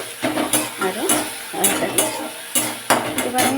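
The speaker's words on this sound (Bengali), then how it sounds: "টমেটোটা কষতে কষতেই নরম হয়ে যাবে যেহেতু পাকা টমেটো এটা ছোটো ছোটো করে কেটে নিয়েছি লবণ দিয়েছি" Chopped ripe tomato with salt being stir-fried in a pan, with repeated sharp scrapes and clinks of a utensil against the metal at an uneven rhythm over a soft sizzle, close and moderately loud, no talking.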